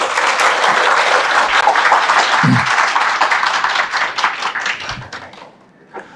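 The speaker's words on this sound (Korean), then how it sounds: "큰 박수로 부탁드리겠습니다" A seminar audience applauds loudly and steadily for several seconds, then the clapping thins out and fades toward the end.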